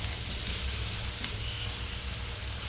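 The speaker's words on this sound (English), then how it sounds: "Saute it up for like about a good 10 minutes." Turkey and potatoes sautéing in a pan for goulash, a steady dense sizzle with a low rumble underneath, close and even, with a faint tap or two and no talking.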